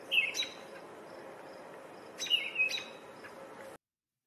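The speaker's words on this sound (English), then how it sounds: "Baltimore Oriole and American Robin chirping at each other" A Baltimore oriole and an American robin chirp at each other in two short bursts of bright calls and tweets over a quiet outdoor background, one near the start and another midway.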